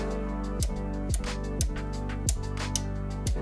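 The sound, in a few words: stepped knob clicking on audio compressor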